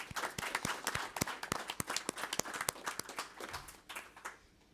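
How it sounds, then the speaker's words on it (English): Scattered audience applause at the close of a conference panel on transatlantic defence: a run of sharp, separate claps at moderate distance that thins out and fades toward the end. "I want to applaud you all"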